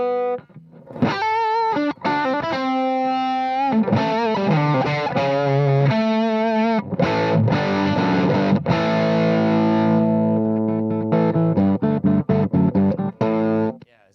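An electric guitar plays through a vintage Marshall amplifier, giving loud, heavily distorted rock notes and ringing chords with brief pauses between phrases.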